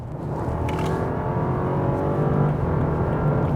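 A Rolls-Royce Black Badge engine revs hard after the Low button on the gear stalk is pressed. The deep, steady roar sounds close and loud and holds throughout, with no talking.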